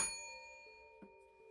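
A single notification bell chime rings bright and clear, then fades over a second with a faint second tap near the end, quiet and alone.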